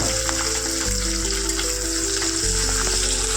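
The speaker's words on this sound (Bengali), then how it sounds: "কড়াইতে তেল গরম করে নিয়ে তাতে একটুখানি পেঁয়াজ আর 3-4টে কাঁচা লঙ্কা একটু ভেজে নেব।" Onion and a few green chillies frying in hot oil in a wok, giving a steady, close, loud sizzle with crackling hiss throughout and no talking.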